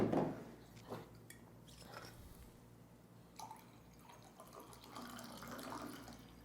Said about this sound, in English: Let me serve you some water.